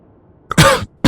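A man lets out a single sharp, close cough, followed by the start of another.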